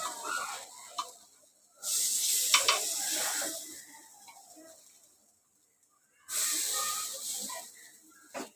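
Banana appe frying and being flipped in an appe pan: two loud bursts of sizzling hiss, each a couple of seconds long, separated by a quieter stretch with faint scraping and a near-silent gap.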